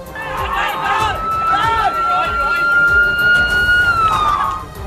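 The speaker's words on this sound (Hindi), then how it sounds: "तो दूसरी तरफ पूरे इलाके में सायरन की आवाज भी गूंज रही थी।" A wailing siren holds a long steady tone over a crowd's shouting and commotion near a burning building, with voices talking throughout.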